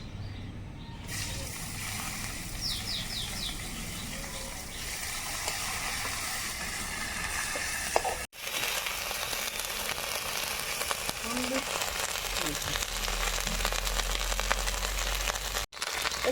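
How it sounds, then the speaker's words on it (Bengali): Chopped onion fries in hot oil with dried red chilli and bay leaf for a katla fish posto dish, a continuous close sizzling hiss broken by two brief dropouts, with faint voices underneath. "তুমি ফোড়নে কি কি দেবে দিয়ে দাও এই যে শুকনো লঙ্কা তেজপাতা এবার দেবো কুচি রাখা পেঁয়াজ"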